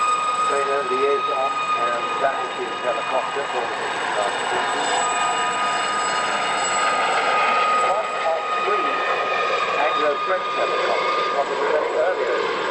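A liaison and battlefield helicopter flies at the 1995 Biggin Hill Battle of Britain Airshow, its engine and rotor drone continuous and loud throughout, with a commentator talking over it.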